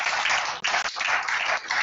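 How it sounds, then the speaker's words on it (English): An audience in a school setting claps together in sustained applause, loud and close, with two brief dips before it continues evenly. "So please, a round of applause for him in his success"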